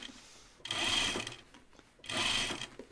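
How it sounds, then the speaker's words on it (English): A sewing machine top stitches a seam on a Kelly Anorak, two bursts of fast whirring stitching separated by a quiet pause, close and fairly soft. "I'm top stitching mine."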